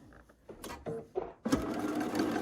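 A sewing machine stitches quilt pieces for an Ohio Star quilt in short bursts, a few quick starts and stops before a longer steady run of rapid mechanical clatter, close up.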